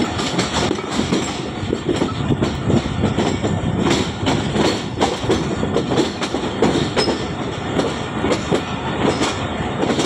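The Jaffar Express passenger train rolls in at a Rawalpindi station platform with a steady loud rumble and rhythmic clickety-clack of wheels over rail joints, continuous and close throughout.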